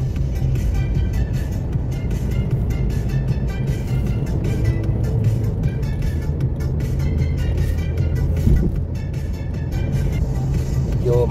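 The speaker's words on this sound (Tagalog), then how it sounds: "Medyo maraming mga sasakyan ngayon." Steady road traffic heard from inside a moving vehicle on a Friday road trip, a continuous loud low rumble of cars and engines with no talking.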